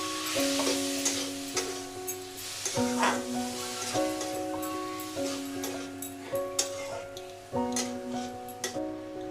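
Steady sizzling of spices frying in a hot pan, heard beneath bright, looping background music.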